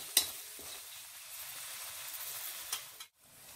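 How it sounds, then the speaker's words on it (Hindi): Paneer bhurji with salt and turmeric sizzles and is stirred in a pan. A steady close frying hiss runs throughout, broken by a couple of sharp spoon clicks before the sound cuts off abruptly near the end. "3 से 4 मिनट तक पका लेंगे।"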